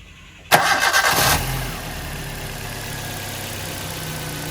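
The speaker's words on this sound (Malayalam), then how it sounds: "ഒന്ന് ജസ്റ്റ് ഒന്ന് സ്റ്റാർട്ടാക്കാം കേട്ടോ" A used Maruti Ritz petrol car cranks and starts with a sharp burst of starter whir, then settles into a steady, even idle that carries on alone to the end.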